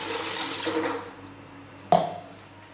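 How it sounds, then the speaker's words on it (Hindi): Water pours and splashes into a metal pressure cooker for about a second, then fades, followed by a sharp metallic clank. "इसमें 1 गिलास पानी डालेंगे"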